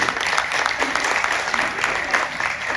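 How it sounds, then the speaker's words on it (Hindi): A crowd at a school patriotic and cultural program claps steadily to welcome the chief guest, a continuous dense wash of applause with faint voices mixed in. "जोरदार तालियों से सर का स्वागत किया जाए।"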